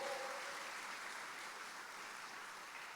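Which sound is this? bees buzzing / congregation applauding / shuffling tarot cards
congregation applauding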